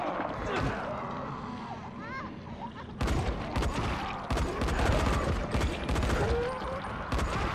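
Gunfire in the zombie video game Dying Light, heard as rapid bursts of shots that crack sharply over dense, busy game noise. The shooting grows heavier in the second half, and a voice is heard speaking in the clip.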